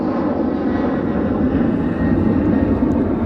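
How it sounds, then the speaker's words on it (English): A British Airways jet taking off at Edinburgh Airport: a steady, loud, broad engine roar with a heavy low rumble, unbroken for the few seconds heard, and no voices. "Absolutely rapid takeoff from the British Airways there"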